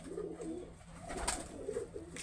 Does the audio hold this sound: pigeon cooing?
yes